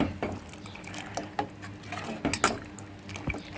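A glass of milk and ragi flour stirred with a spoon, producing irregular light clinks and swirling liquid taps at close range, with brief pauses between strokes.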